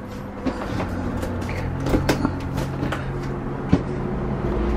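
Accordion door in a 2020 Airstream 22-foot front-bedroom trailer sliding along its track, with a few soft knocks and a sharper click as it latches, close by in a quiet interior.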